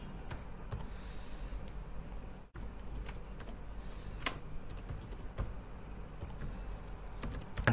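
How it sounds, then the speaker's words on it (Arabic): Someone types an email on a computer keyboard, with steady quiet clicking keystrokes over several seconds and a brief pause partway through. No one speaks. "سي بكتب اي ايميل"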